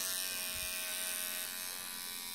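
A Veet Sensitive Perfection electric trimmer buzzes steadily on eyebrows, a thin, high-pitched continuous motor whine held close to the microphone at low volume for the whole stretch.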